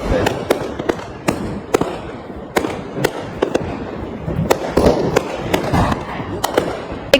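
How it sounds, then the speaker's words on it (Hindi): Diwali fireworks crack and pop in sharp, irregular bursts, some near and loud and others farther off, over a steady rumble of distant explosions and faint crowd noise. "देखिए कुछ देर आतिशबाजी"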